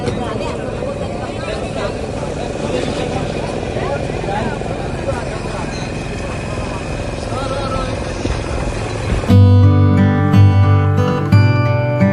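A small passenger boat's motor drones steadily and loudly across a coastal channel near Digha, a constant engine roar with wind; partway through it gives way to a sudden burst of music.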